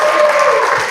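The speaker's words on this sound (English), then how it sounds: "a big round of applause" A brief burst of applause from a crowd, loud and dense, clapping throughout.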